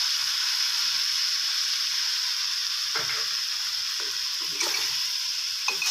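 Chicken stir-fried in a pan with banana peppers, roasted chili paste and green onions: a loud, steady hissing sizzle throughout, broken by a few short scraping stirs of the spatula toward the end, no talking.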